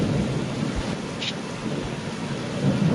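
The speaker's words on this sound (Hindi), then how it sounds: "बारिश" Cartoon rain and thunder: a low rolling rumble of thunder over a steady hiss of falling rain, moderately loud and continuous with a brief brighter burst partway through.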